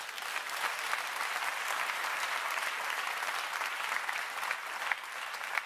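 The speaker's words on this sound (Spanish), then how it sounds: "denle un aplauso al Señor" Congregation in a church applauding the Lord after a sermon, a dense, even wash of many hands clapping at a moderate distance, steady throughout with no speech.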